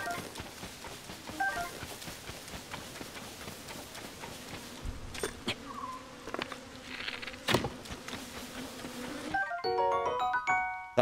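Bees buzzing in Zelda: Tears of the Kingdom, a steady insect drone over busy game sounds with scattered clicks, ending in a burst of bright chiming tones.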